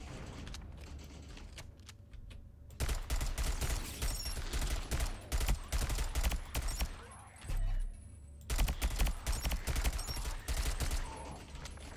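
Bursts of gunfire and a grenade blast from the Sentry first-person tower defense game. Loud, dense volleys of shots start after a quieter opening, with a short lull midway before heavy firing resumes.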